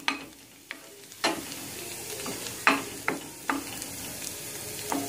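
Garlic ginger paste and chopped onion frying in a small amount of oil for a keto chicken vegetable dinner, a soft steady sizzle broken by occasional stirring scrapes and clinks, with no talk.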